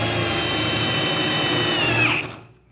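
A drill bit boring through components for a CO2 build, a loud continuous whine with a high pitched tone that bends downward as the cut finishes, then cuts off abruptly.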